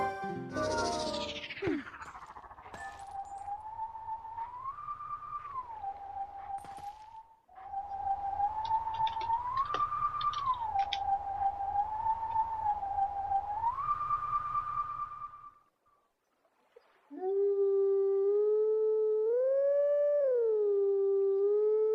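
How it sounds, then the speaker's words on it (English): In The Legend of Zelda: Twilight Princess, a wolf howls the Howling Stone tune, the Goron Lullaby from Majora's Mask, in long wavering sustained notes over a low rhythmic backing, followed by a cleaner tonal reply phrase. "This Howling Stone is, it is the Goron Lullaby from Majora's Mask, apparently"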